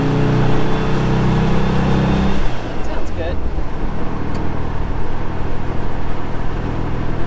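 A car engine runs steadily while the driver shifts gears, with a drop in engine note partway through, then continued road and motor noise; a person briefly speaks over it.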